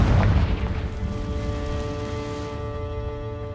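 A Confringo spell explodes in the Hogwarts Legacy video game, a loud booming burst at the start that fades into a sustained ringing, tonal rumble over a few seconds.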